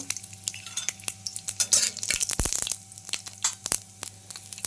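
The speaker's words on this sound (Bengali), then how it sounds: "তো আমি তেলে কালো সর্ষে দিয়ে দিচ্ছি 1 চা চামচের মতো।" Black mustard seeds frying in white oil in a wok, a sharp crackling sizzle broken by quick scraping and stirring clatter from a utensil against the pan, busy and close.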